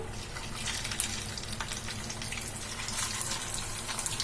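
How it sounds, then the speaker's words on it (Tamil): Poha (aval) snacks frying in hot oil in a pan, giving a steady, close hiss and crackle with scattered sharper pops throughout, no voices over it. "ஆயில் வந்து நல்லா சூடான பிறகு நம்ம ரெடி பண்ணி வச்சிருந்ததை வந்து ஒன்னொன்னா எடுத்து ஆயில்ல வச்சிடலாம்"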